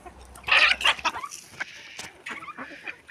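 A red rooster and chickens cluck and squawk close by in a farmyard flock, with a loud burst of calls early on and softer scattered clucks after.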